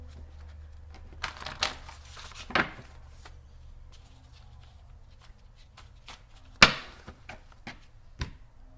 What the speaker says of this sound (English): Let's give it one more quick shuffle here to get to the bottom of things.